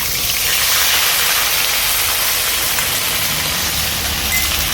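Onion paste with ginger paste sizzling in hot oil for a puti fish curry, making a loud, close, even hiss that runs without pause throughout.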